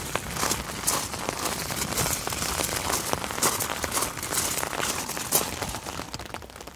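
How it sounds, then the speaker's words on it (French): Steady rain falls and patters on surfaces outdoors in a French village near the town hall, a dense, even hiss with scattered drop taps, no voices. "Et il pleut bien même."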